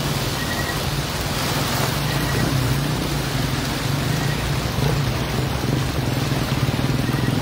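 Heavy rain mixed with strong, fast-flowing floodwater in front of a church in Davao City, a steady dense roar with a low rushing rumble throughout, loud and continuous with no talk.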